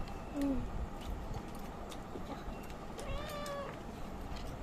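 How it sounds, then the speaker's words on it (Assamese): A cat gives two short, faint meows, one early and one later, against a quiet indoor background. "এই মেকুৰীটো আৰু কেমেৰাৰ আগে আগে যাব"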